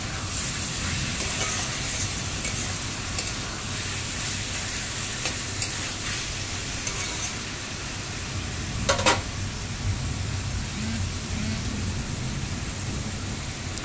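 Spaghetti noodles being stirred and mixed in a pan as they cook, a steady close sizzle and frying hiss with soft scraping, with no talk.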